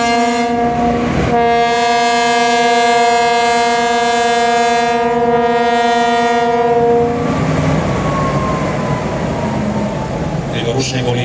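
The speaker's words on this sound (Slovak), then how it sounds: "Skús nám zatrúbiť Sergej ešte." Diesel locomotive on a turntable sounds a long, loud two-tone horn blast held for several seconds, then trailing off amid outdoor rumble at a locomotive display.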